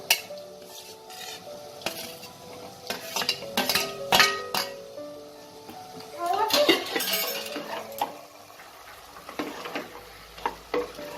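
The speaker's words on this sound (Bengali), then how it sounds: "এই কষানোর সময় আমি ভেজে রাখা আলুগুলোকেও অ্যাড করে দেবো।" Mutton keema with fried potatoes being stir-fried in a pan, with repeated scraping and clinking of a metal spatula against the pan over a soft sizzle, in irregular bursts, plus a few sharp metallic knocks.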